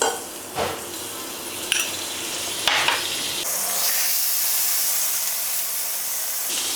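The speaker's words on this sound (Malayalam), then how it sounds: "ഇനി അതിലേക്ക് കുറച്ച് ബട്ടർ ഇട്ട് കൊടുക്കാം." Butter hits a hot pan before paneer goes on to grill, bursting into a loud steady sizzle and hiss that swells after a few scraping stirs, close up with no talk.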